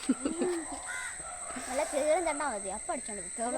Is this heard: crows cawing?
yes